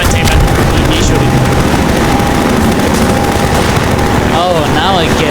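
Rapid gunfire in Garry's Mod rings out as a loud, dense stream of shots over a constant game-world rumble, with a few tonal whooshing effects near the end.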